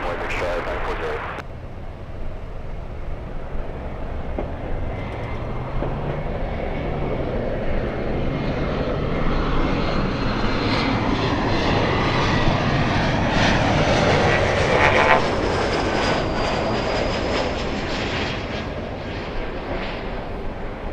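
An airliner's jet engines roar at Los Angeles airport as a plane prepares for takeoff on runway 24 left, a broad, loud, sustained rumble that swells and eases over about twenty seconds, with radio voices underneath.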